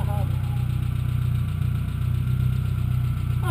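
A vehicle engine working over stones inside a tunnel gives a loud, close, steady low drone with a rumbling pulse that holds throughout, with faint voices briefly at the edges.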